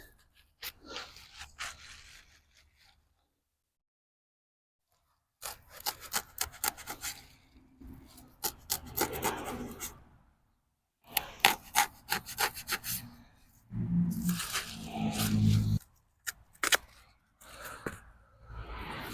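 A handsaw cuts a partial notch in a piece of wood for insulating a sprinkler valve box, producing bursts of rhythmic rasping strokes with a quiet pause between them. The sawing is close and fairly loud, with no talk.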